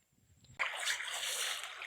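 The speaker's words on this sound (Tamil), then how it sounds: "வயல் ஓரமாக இருக்கிற இந்த வாய்க்கால தண்ணி வந்து எவ்வளோ அழகாக ஆடிக்கொண்டிருக்குது" Water in an irrigation channel beside a paddy field suddenly rushes in after a brief quiet moment, then keeps up a steady, close, bright splashing flow.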